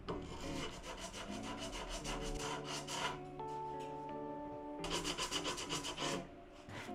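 Sanding the sides of an old Japanese vintage guitar neck by hand with abrasive, giving repeated rhythmic rubbing strokes with a rasping texture, close and fairly loud, with steady tonal hum in the background.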